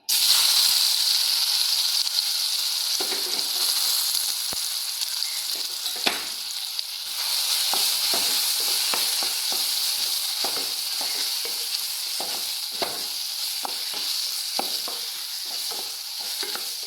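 Chopped nendran plantain fries in ghee in a pan with a loud, steady sizzle, broken by light clicks and taps of stirring throughout, with no talking.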